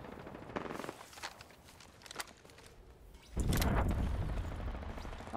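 Gunfire from snipers in the video game Apex Legends, with scattered shots and impacts followed by a dense burst of loud firing, no talking.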